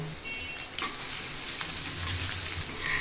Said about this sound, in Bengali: তেলের ভিতরে আমি পেঁয়াজ ও কাঁচামরিচ দিয়ে দিলাম এটাকে একটু নেড়ে ছেড়ে ভেজে হালকা রং করে নিব